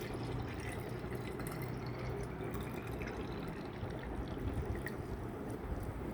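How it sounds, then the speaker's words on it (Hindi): Water flows steadily into a brass lota pot during a Navratri kalash puja, a continuous low splashing fill that stays even throughout with no talk. "अब इस लोटे को पानी से पूरी तरह से हम भर लेंगे।"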